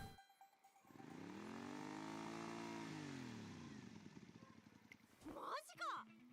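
A motorcycle engine roars in the video game Umamusume, revving up into a sustained, fairly quiet growl that slowly winds down, followed by a couple of sharp, sweeping engine bursts near the end.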